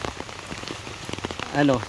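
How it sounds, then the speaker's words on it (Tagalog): Steady rain patters on a house roof, with scattered drops tapping throughout and a brief faint voice-like tone near the end. "sound ng patak ng ulan sa bubong ng bahay"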